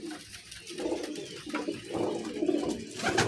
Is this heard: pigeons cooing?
yes